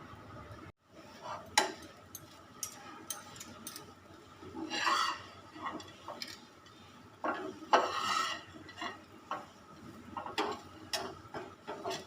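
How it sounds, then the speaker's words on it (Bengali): A spoon scrapes and stirs through a cooking dish after ghee is added, producing irregular metallic scrapes and rubbing bursts against the pan, quiet and close, with no talking. "এবার আমি ভালো করে নেড়ে মিশিয়ে দেবো"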